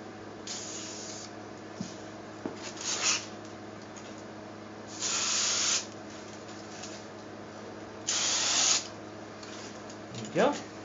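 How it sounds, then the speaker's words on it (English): Short aerosol spray bursts coat the edges of a handmade etheric emitter, four or five separate hisses of varying length, near and clear over a faint background hum. "And we're going to spray the edges on the other side."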